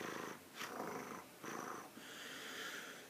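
A man imitates a wild turkey purr call by mouth, rolling his tongue or fluttering his lips, giving a few soft rolling, rattly bursts close to the listener with no talk.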